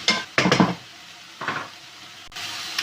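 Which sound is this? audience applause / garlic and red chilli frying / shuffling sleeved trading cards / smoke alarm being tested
garlic and red chilli frying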